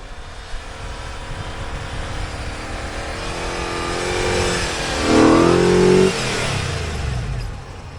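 An off-road vehicle's engine strains through deep snow drifts and ruts, droning steadily and then swelling into a louder revving surge midway before easing back, heard up close with no voices.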